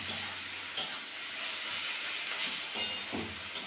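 Onions salted with sliced green chillies frying in a pan, a steady close sizzle and hiss with a few brief stirring clicks, no voices.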